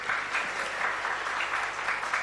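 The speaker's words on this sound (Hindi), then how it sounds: "बच्चे ताली बजा दो" Steady, continuous clapping from a crowd of children at a question session, even and sustained throughout.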